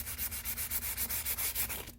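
Rhythmic hand sanding on the wooden fingerboard of a vintage Alvarez 12-string guitar, about a dozen even back-and-forth rasping strokes, close and steady with no talking.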